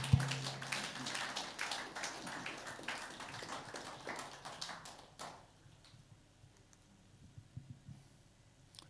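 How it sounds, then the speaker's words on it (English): A church congregation at a Sunday evening service claps together in a dense, sustained burst of applause that fades out after about five seconds, leaving scattered faint claps in a quieter room. "Let's give a clap offering to God."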